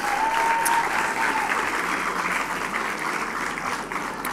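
Sustained applause from an audience at a Quebec esports awards gala, dense and steady throughout, with a faint brief whistle near the start.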